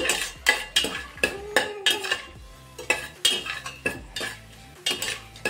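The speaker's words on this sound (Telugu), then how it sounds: "మనం ముందుగా తీసి పెట్టుకున్న ఆనియన్స్ కూడా వేసుకుందాము" Fried onions go into mushrooms in a pan for mushroom biryani, with a run of sharp metallic clanks and scrapes from a spoon against the pan, close and uneven, over a faint sizzle.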